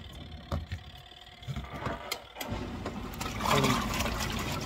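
A Rovsun portable washing machine starting its wash cycle: a few clicks as the timer is set, then a sustained churning rush of sloshing water and motor hum that grows louder and continues.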